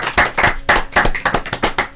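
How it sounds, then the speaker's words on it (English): A small community audience claps by hand, the separate sharp claps landing close together in an uneven, lively patter for a couple of seconds. "we'll give them applause"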